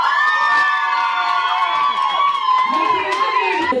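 An audience in a café in Orenburg cheers and applauds for Dmitry at an aroma party. Loud, sustained whoops and shouts fill the room throughout, with voices calling out close by.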